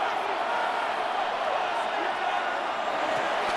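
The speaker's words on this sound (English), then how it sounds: "This crowd doing all they can." Stadium crowd noise from a Madden NFL 26 Cowboys versus Eagles game, a steady loud roar of cheering that holds evenly throughout, with no distinct breaks or separate shouts standing out.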